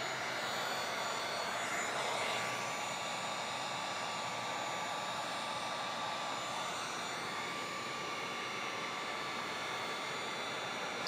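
A heat gun blows a steady, close, breathy roar while shrinking window tint film on a front door of a Jeep Grand Cherokee, unbroken for the whole stretch.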